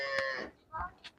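A cow lowing close by in a farm setting, one drawn-out moo followed by two short grunting calls, fairly faint with no talk over it.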